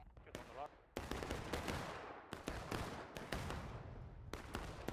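Musket fire in the War of Rights game on a forest stream map, a crackling volley of many overlapping shots near and far, with sharp reports repeating in bursts and a voice faintly underneath.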